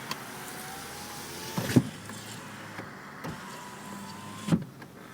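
Electric windows on a Honda Civic 1.8 ES with i-Shift gearbox whir up and down in turn, each motor hum ending in a soft thunk as the glass seats, repeated over several seconds at close range with no talking.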